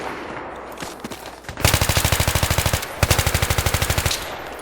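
Rapid automatic gunfire from a weapon in the video game Battlefield 3: two loud, fast bursts of evenly spaced shots, the first longer, separated by a brief pause, with no talking.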